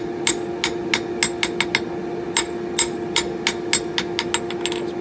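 A freshly forged hammer with a charred, oiled wooden handle strikes a piece of scrap half-inch square steel, giving about fifteen sharp, ringing metallic blows in an uneven rhythm over a steady background hum.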